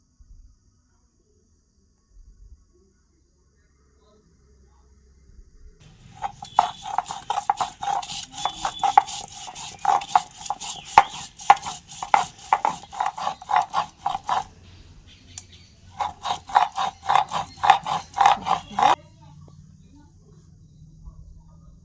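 Turmeric and ginger ground together by hand on a grinding stone, a fast run of rhythmic scraping and knocking strokes for about eight seconds, a short pause, then another few seconds of the same close grinding.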